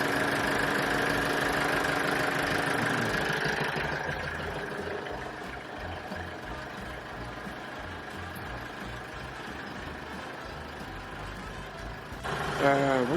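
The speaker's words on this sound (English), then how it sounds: "I will warm up the motor a little bit so that it will be easier to start." A car engine being warmed up runs at a steady mid-pitched idle with a faint knock, with a person talking over the first few seconds.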